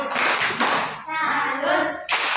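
A classroom of children claps the rhythmic 'tepuk salut' pattern in loud, dense bursts of many hands, with a short pause midway before the clapping resumes.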